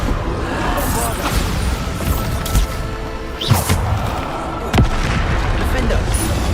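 Bombarda spell blasts in the video game Hogwarts Legacy: a few sharp, booming thuds spaced a second or so apart, landing amid continuous combat noise and effects.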